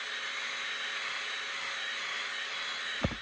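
A heat gun sets paint on a golden baitfish fishing lure, giving a steady, close, airy blowing hiss that holds evenly throughout, with a small knock near the end.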